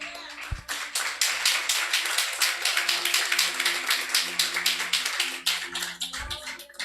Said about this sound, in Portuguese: Aplauda o Senhor, amém?